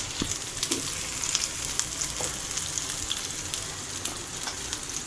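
Onions and tomatoes fry in a pan for crab gravy, giving a steady, close sizzle with scattered crackles and pops throughout and no voices over it.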